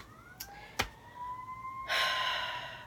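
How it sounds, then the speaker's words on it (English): A siren passes outside, its steady rising tone cutting through a quiet room before a louder burst of noise swells in near the end; no one speaks. "Of course, the sirens come now."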